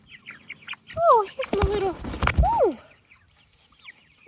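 Chickens settling in for the night at a backyard coop, with a few rising squawk-like calls and clucks close by, mixed with a person talking and handling noise.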